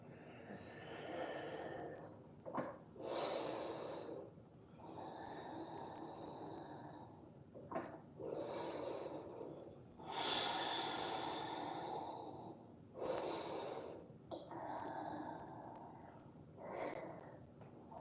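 Slow deep breaths during a yoga session, long airy inhales and exhales alternating at an unhurried pace, close and fairly quiet with no talking.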